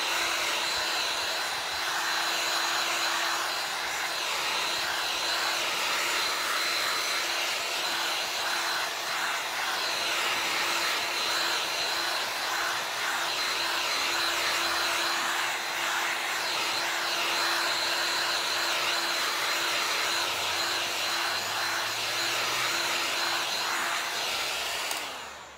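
Hair dryer blowing steadily on wet paint on a stenciled harlequin table, a continuous close whooshing motor drone for the whole stretch with no talk.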